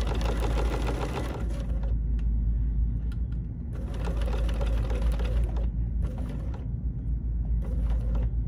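A BERNINA sewing machine with a non-stick foot stitches vinyl in close, loud bursts of rapid mechanical clatter, pausing briefly between runs while the motor noise stays underneath.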